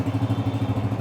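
A used Honda Deluxe 125 motorcycle engine running, a steady, rhythmic low thumping putter, close and fairly loud with no talk.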